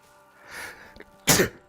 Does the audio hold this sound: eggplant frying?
no